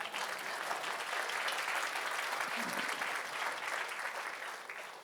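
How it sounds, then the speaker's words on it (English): Dense, steady applause from a conference audience at the opening plenary of Global Soil Week 2015, sustained for several seconds without talk before tapering slightly at the end. "Clap hands, he is here."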